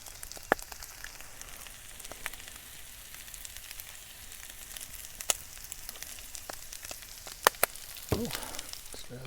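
Ground beef sizzles steadily in a pan at a campground, with a scattering of sharp scrapes and clicks as the meat is broken up, a louder clatter near the end.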